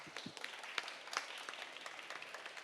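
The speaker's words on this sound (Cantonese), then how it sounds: "俾啲熱烈掌聲" An audience at an art competition award ceremony claps in a fairly faint, scattered round of applause. Individual hand claps stand out now and then over the softer patter of the crowd.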